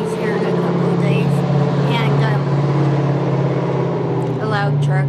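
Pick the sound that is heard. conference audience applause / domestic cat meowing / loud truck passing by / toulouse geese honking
loud truck passing by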